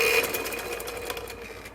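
A sewing machine stitches a kurta seam up close, a quick, even whirring burst that tapers off near the end.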